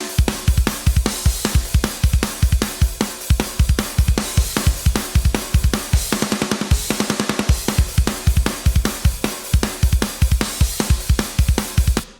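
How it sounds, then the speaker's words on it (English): Pop punk drum mix playing dry with the room tracks muted: tight, punchy kick, snare and cymbal hits in a fast, driving rhythm, close and loud, with a brief denser fill midway and no talking. "If I mute that, play the drums, and hear what it sounds like without the rooms."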